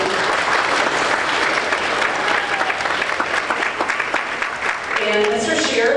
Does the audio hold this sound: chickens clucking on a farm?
no